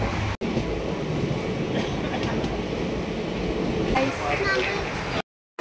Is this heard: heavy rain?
no